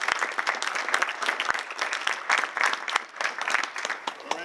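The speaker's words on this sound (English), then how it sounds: "Give yourself a round of applause" An audience at a young men's leadership conference claps together in steady, dense applause that holds at an even level throughout.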